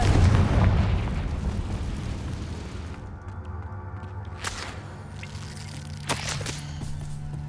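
A Confringo fire spell in Hogwarts Legacy erupts with a loud, heavy low rumble that fades, followed by sharp bright cracks and bursting pops a few seconds later, with no talking.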